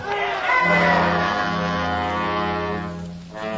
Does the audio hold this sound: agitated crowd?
yes